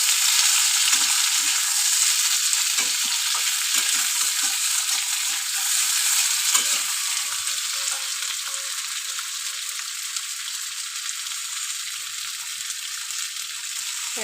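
Tilapia pieces with yardlong beans and potato frying in oil in a pan for a fish curry, a loud continuous close sizzle with a steady crackle and faint stirring scrapes running throughout.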